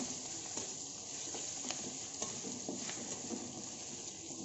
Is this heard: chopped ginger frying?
yes